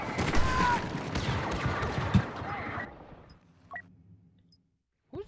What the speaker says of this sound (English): He's a fast shooting machine gun.